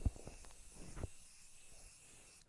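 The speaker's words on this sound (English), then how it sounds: "So I'm going to take my spray, I'm going to spray this down." 505 temporary adhesive spray hisses in a short burst onto paper at close range. A few soft handling knocks come before it, and no one speaks.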